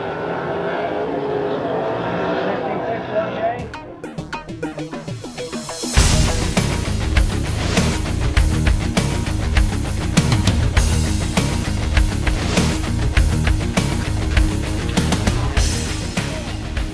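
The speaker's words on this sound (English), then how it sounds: "Heat number 1, 410 sprint cars coming at ya" 410 sprint cars race on a dirt track at the 2013 Sprint Car Spring Classic. After a few quieter seconds, a loud, sustained, multi-engine roar bursts in and stays heavy and unbroken.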